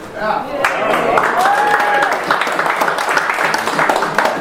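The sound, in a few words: audience sympathy applause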